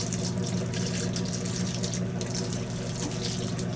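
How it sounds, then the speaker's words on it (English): Water pours steadily from a watering can into the central rosette of a garden pineapple plant, giving a continuous, close splashing stream with no talk over it. "I can just pour the water right into the center of the pineapple"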